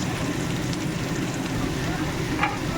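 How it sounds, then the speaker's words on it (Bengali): Carrots, capsicum and beans fry in hot oil and ghee in a pan for fried rice, giving a steady, dense sizzle and crackle that stays close and even throughout. "তেল আর ঘিয়ের মধ্যেই দিয়ে দেবো গাজর, ক্যাপসিকাম আর বিনস"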